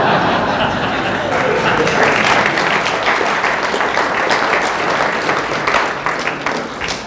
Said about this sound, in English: it is very kind of you to clap